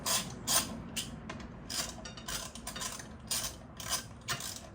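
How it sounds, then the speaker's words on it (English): A ratchet tightens the front wheel pinch bolts on a Suzuki GSXR600 sportbike, a series of quick, close clicking bursts in an uneven rhythm over a quiet background. "Bring the pinch bolts in."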